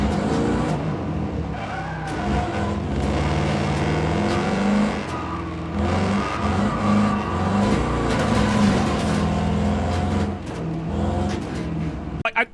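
Continuous roar of racing car engines revving and shifting in the video game Wreckfest 2, with tire screeches and whooshing passes, loud and unbroken with no voices.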